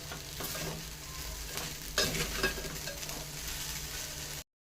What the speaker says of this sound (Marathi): साबुदाणा व्यवस्थित मिक्स करून घेऊया